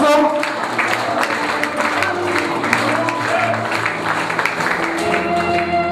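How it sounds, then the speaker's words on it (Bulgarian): Wedding guests clap during a toast, a steady crowd applause running throughout, mixed with sustained tonal music and some voices underneath. "Аплодисменти."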